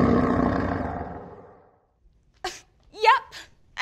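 A child imitates a lion's roar with a long, breathy, fading growl, followed after a pause by a few short vocal bursts.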